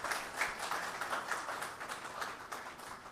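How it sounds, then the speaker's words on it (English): Audience applause for the panelists at a session on ethical AI in telecom and 6G networks, steady clapping of moderate loudness across the whole stretch with no speech over it. "please join me in giving the panelists a big clap."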